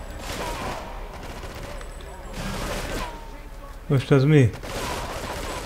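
A short rapid burst of AK rifle fire in Grand Theft Auto III rings out loud and close near the end, after a stretch of game noise and talk from a player.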